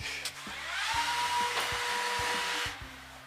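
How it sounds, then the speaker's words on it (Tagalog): A vacuum cleaner runs with a steady, close whooshing whine lasting a few seconds, starting and fading with a faint tone riding on the airflow. "And then you go vacuum."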